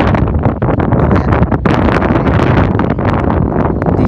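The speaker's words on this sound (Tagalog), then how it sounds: "Rinig sa recording natin na napakalakas ng hangin." Loud, continuous strong wind buffets the microphone during a DJI Neo drone test, roaring and gusting without pause; no voices are heard.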